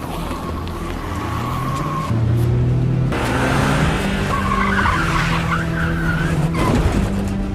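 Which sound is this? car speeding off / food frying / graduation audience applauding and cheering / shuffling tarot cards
car speeding off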